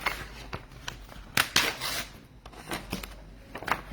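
Scissors cutting out a piece of paper, a few close snips and crisp shearing strokes at uneven intervals with light rustling between them.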